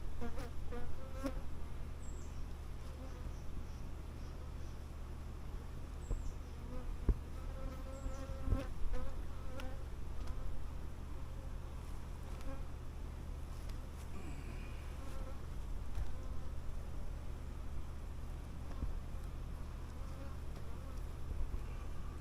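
Honeybees drone in a steady, continuous buzz around their hive, with occasional individual bees passing closer against the constant hum.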